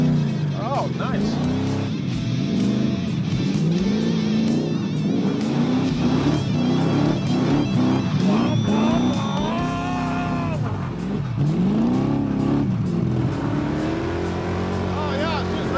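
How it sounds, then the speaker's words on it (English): The engine of a Hatchet Coronet car revs and surges repeatedly at close range, rising and falling throughout, while people talk over it. "Oh, yeah, she's revving up."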